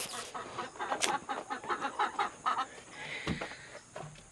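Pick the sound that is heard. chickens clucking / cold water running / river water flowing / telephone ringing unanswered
chickens clucking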